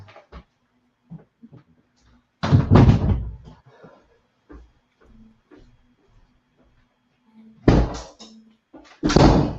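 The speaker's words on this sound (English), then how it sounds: "I'm just going to have to go and shut a door" An indoor door pushed shut amid nearby construction noise, with several sharp thuds and knocks separated by quiet gaps and a couple of louder slams toward the end.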